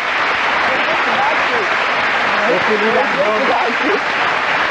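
A French television studio audience applauds in a steady, dense wash of clapping that holds for several seconds, with voices and cheers mixed in.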